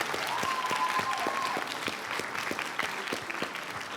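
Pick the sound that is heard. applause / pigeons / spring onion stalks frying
applause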